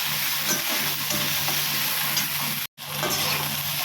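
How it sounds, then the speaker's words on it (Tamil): Okra frying in a little oil in a pan, giving a steady, close sizzle and crackle that runs almost unbroken, with one brief gap near the end. "இதே மாதிரி கொஞ்சமாக எண்ணெய் விட்டு இப்படியே வறுத்துக்கிட்டே இருங்க"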